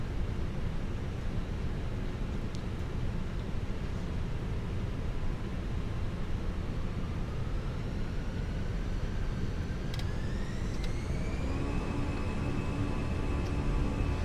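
Twin jet engines of a Fenix A320 airliner in a flight simulator spool up for takeoff, a broad steady roar with a whine that climbs in pitch and then holds high, loud and unbroken.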